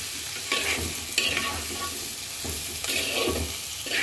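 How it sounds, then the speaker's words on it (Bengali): Fish curry masala with salt, turmeric and coriander powder is stir-fried in a pan, with soft sizzling and repeated scraping strokes of a spatula at a moderate level. "কষাবো মানে ভাজা ভাজা করব।"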